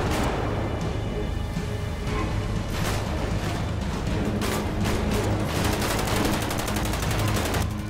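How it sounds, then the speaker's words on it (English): Dense automatic gunfire in GTA 5 roleplay, loud rapid bursts of shots crackling over a steady background, continuous with no talking. "Watch out, you're shooting into a hospital."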